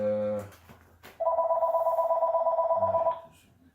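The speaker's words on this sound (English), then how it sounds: "well, the phone's ring, guys, so just be patient." A telephone rings indoors with one sustained warbling electronic ring burst lasting about two seconds, loud and close, with a little talk before it.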